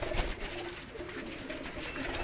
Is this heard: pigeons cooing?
yes